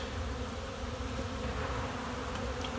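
A strong honeybee colony hums steadily at the hive entrance, a dense, continuous buzz of many bees coming and going, close and even throughout.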